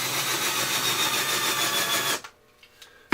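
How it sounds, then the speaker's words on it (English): A steady, loud whirring drone of a power drill drilling the head off a rivet on a projector lamp cover runs for about two seconds, then cuts off abruptly, leaving a few faint clicks and taps. "So we just take and drill the head off of this rivet."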